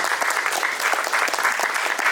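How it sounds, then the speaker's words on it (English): Steady, full applause from an audience at a mental health fair keynote, continuous clapping at close range with no talk over it. "A round of applause for that."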